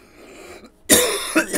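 After a quiet moment, a man coughs harshly and loudly right at the microphone, one big burst followed by a couple of smaller hacks, with lungs burning after a dab.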